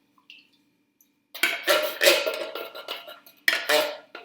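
Soup from a can glopping into a large saucepan, with metallic clanks and scraping of the can against the pan rim in several close bursts after a brief quiet start.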